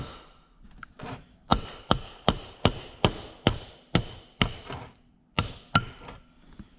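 A hammer taps a metal rod out of a Subaru EJ25 engine in a steady series of about a dozen sharp, ringing strikes, evenly spaced with a short pause before the last few.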